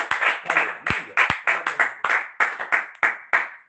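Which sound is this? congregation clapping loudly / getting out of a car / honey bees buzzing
congregation clapping loudly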